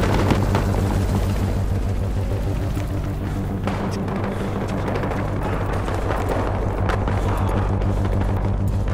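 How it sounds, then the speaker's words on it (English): A transport helicopter in the Battlefield Hardline video game roars steadily overhead, its rotor thump loud and continuous throughout, with rumbling low engine noise and no talk. "They got a transport chopper!"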